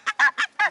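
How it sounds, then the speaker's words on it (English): Small young Canada geese give four quick, clipped honks in steady succession, close and fairly loud, with no talking. "mini Canadian geese."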